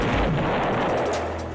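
A missile explodes at a military base in the video game GTA 5, a loud, close boom with a heavy low rumble that decays over about a second and a half, no speech.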